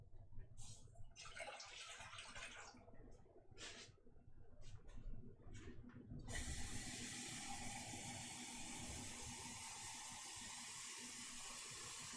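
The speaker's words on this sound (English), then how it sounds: "starting some water here to do a double boiler" Tap water runs steadily into a pot for a double boiler in a home kitchen, starting as a loud continuous rush partway through and carrying on to the end after some earlier clattering.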